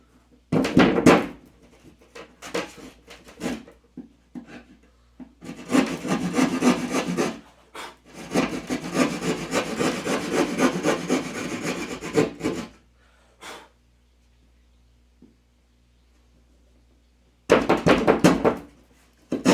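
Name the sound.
J-bar being used on a drywall sheet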